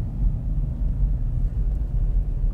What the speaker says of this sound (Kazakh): Қазір қатты боран соғып тұр.